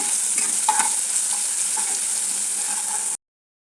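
A ground paste of green chilli, ginger, garlic and a little coriander sautéing in a pan, giving a continuous close hiss and sizzle with soft stirring taps before cutting off abruptly.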